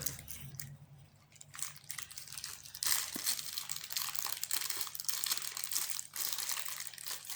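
Plastic wrapping on a diyhomever package crinkles and crackles as it is being opened, close and continuous after a quieter start.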